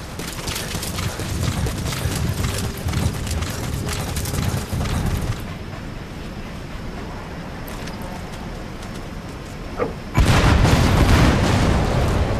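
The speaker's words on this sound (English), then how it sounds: "security will be tighter after that explosion" A separator tank explodes in Metal Gear Solid V: The Phantom Pain, with heavy booming blasts and rumbling debris, a quieter stretch of lingering rumble, then another loud, deep burst near the end.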